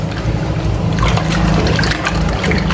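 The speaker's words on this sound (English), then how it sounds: "So here I'm adding my calcium carbonate to the water." Calcium carbonate powder is added gradually to water while making emulsion paint from scratch, giving a close, continuous liquid trickling and sloshing with low rumbling underneath and no speech.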